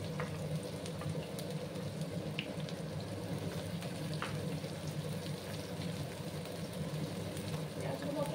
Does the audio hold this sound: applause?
no